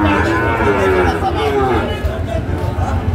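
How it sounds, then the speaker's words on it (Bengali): Sahiwal bull calves at a cattle market, a loud close moo drawn out over a few seconds amid crowd chatter and background noise. "ষাঁড় আমরা দেখছিলাম।"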